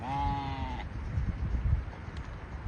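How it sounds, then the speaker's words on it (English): A single sheep tethered to a brick in a grassy spot gives one clear, wavering bleat, followed by faint outdoor background rustle. "another sheep that's been tied to a brick and she can't actually even move around further to munch on certain grass"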